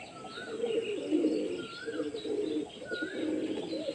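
Pigeons kept for flying coo softly in repeated low, rolling phrases at close range, with a few higher chirps mixed in and no talk.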